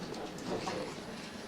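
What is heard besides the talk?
passing train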